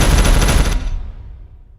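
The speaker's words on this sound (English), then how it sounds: "And then just let that artillery hit." Artillery strikes in a video game land in a quick burst of loud, crackling impacts, then cut off abruptly and trail away into a short fading tail.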